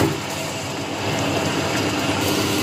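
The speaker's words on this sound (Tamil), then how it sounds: "தண்ணி சேர்த்ததுக்கு அப்புறம் கிரைண்டர் ஆன் பண்ணிக்கலாம்." Wet grinder churning soaked idli rice into batter, a steady rumbling whir with gritty rolling texture, continuous and close, with no voices.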